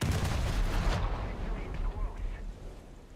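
Loud, rapid enemy gunfire and cannon blasts crash in a dense burst during a War Thunder battle, then cut off abruptly into fading echoes and quieter rumbling.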